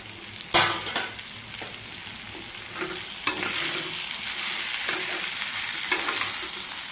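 Green chilli and banana fry sizzles steadily in a pan while a spoon stirs and scrapes it, with a sharp clink near the start and several lighter scrapes after, close and alone.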